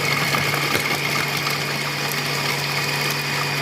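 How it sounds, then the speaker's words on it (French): A Compact Cook Pro food processor runs its chop program at speed 6, a steady loud motor whir with a constant hum and faint rattling of the ingredients in the bowl. "Donc je vais lancer mon programme haché, vitesse 6,"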